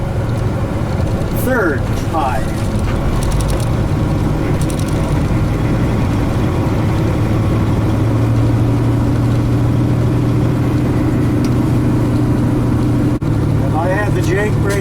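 Heavy truck engine with a 13-speed gearbox running steadily, its low drone holding near and constant while the driver downshifts from fifth high to third high; someone talks over the engine throughout.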